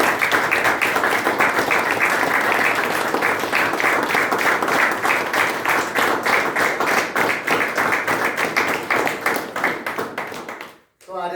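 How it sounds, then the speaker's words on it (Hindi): At a recovery birthday celebration marking one year sober, a group gives loud, sustained applause with a steady rhythmic beat to it. The clapping runs for about eleven seconds, then stops abruptly. "पहले तो जोरदार तालियां।"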